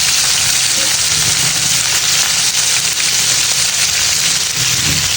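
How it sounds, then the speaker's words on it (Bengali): Chicken pieces fry in a pan on a home stove just after being turned over, giving a steady, dense sizzle and crackle close up that runs unbroken throughout. "চিকেনগুলো সব উল্টিয়ে দিলাম।"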